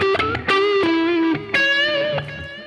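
An electric guitar with heavy distortion is picked with a coin instead of a pick, playing a few ringing, sustained notes with sharp attacks, loud and close.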